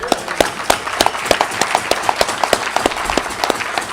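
An audience at a Rotary Club meeting applauds with brisk, rhythmic clapping. Individual claps stand out clearly above a softer crowd wash, and the sound stays loud and steady for the whole stretch.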